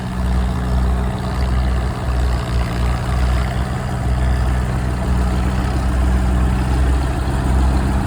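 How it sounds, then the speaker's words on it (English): An antique Caterpillar diesel dozer engine idles steadily, a deep, constant low rumble with a slight uneven throb, loud and close with no talking over it. "This guy's got this one running. It's a Caterpillar diesel."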